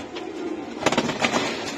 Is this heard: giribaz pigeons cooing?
yes